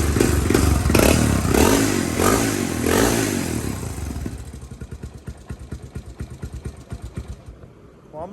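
A 1985 Honda ATC350X three-wheeler engine runs close by, revving loudly at first and then settling into a rough, pulsing idle with a steady clattering beat.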